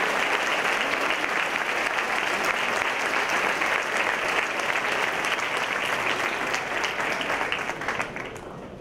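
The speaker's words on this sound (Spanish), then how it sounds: "Le brindamos a quienes recibieron su diploma por la pura letra de hoy un fuerte aplauso." A graduation audience gives loud, sustained applause for diploma recipients at a swearing-in ceremony, a dense wash of clapping that holds steady and then thins slightly at the end.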